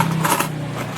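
Small coins drop during a cash payment exchange, a brief cluster of bright metallic clinks in the first half second over steady background hum.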